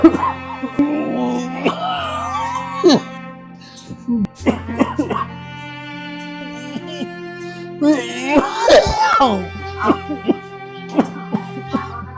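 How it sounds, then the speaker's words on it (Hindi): An elderly man coughs heavily in bursts, with harsh throat-clearing sounds close by, while other voices talk in between. "दादू को बहुत खांसी चल रही है"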